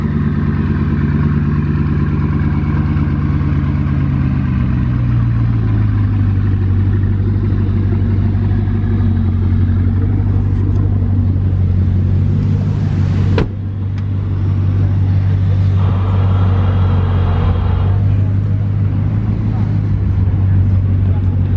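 A Bugatti Chiron hypercar engine rumbles and revs, its pitch climbing and holding as it pulls away, loud and close, with excited talking over it.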